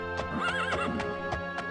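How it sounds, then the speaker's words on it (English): A horse in The Elder Scrolls Daggerfall gives one loud, close whinny that rises and wavers, with hoof clip-clops under and after it. "Nay, says the horse!"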